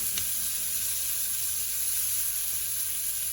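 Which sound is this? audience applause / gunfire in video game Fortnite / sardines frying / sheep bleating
sardines frying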